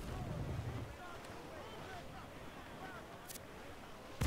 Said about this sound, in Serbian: Čovječe, vetar duva pravo ko nama.